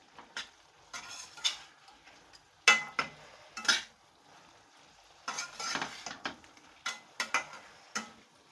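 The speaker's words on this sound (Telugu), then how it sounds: "మనం వేసినటువంటి టమోటా అంతా కొద్దిగా ఫ్రై అయ్యేంత వరకు ఈ విధంగా కలిపేస్తూ ఉండాలి" A spoon scrapes and clinks against a pan while tomato masala fries on high flame, in irregular clusters of close, crisp stirring strokes over a faint sizzle, with no voices.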